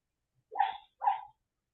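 A sleeping dog growls while dreaming, giving two short, muffled, close vocal bursts in quick succession with silence on either side.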